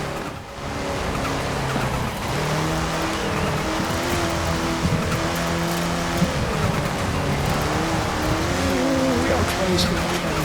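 Race car engine in a racing video game, droning steadily and loud with shifting pitch as gears change down, continuous under excited talk.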